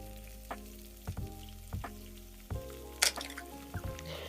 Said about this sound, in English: After seasoning it, you can actually fry it for extra 1 minute